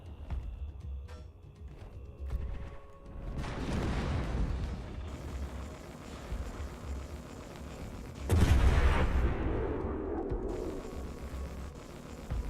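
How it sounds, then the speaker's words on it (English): Rapid-fire Artemis shots in a Warhammer 40K Starcore game, heard as booming blasts with rolling rumbles and a sharp, heavy impact late in the clip, over a quieter background of game noise. "On Zero hitting him with the rapid fire Artemis shots."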